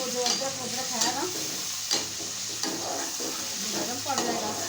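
Tomatoes sizzle and fry in a cooking pot as a spoon stirs and scrapes through them, a steady crackling bed with repeated clinks and scraping strokes, close up and with no talking.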